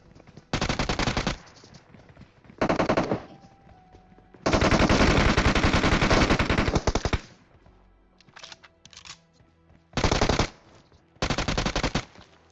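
Gunfire in a fight in the mobile game PUBG Mobile: several loud bursts of rapid automatic fire, one long sustained stream in the middle, separated by short gaps with quieter distant shots.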